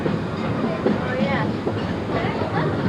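A Magic Kingdom train rumbles along with a steady clickety-clack and faint squeals, close and continuous, while a voice talks over it.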